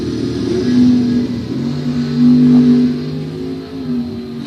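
At a drag strip, racing cars including a 1972 Corvette and a Plymouth Duster hold a loud, steady engine drone that swells and eases with revs, heard near and unbroken.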